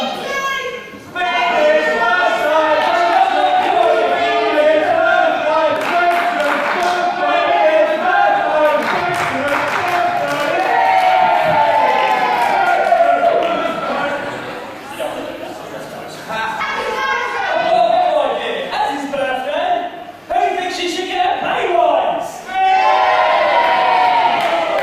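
A loud crowd sings together off-key, a sustained, ragged chorus of many voices with shouts and cheers mixed in, broken by a few brief dips.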